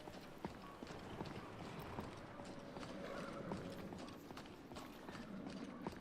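A horse in Skyrim VR clip-clops along with steady hoof steps and an occasional snort, moderately close, over faint ambient game sound.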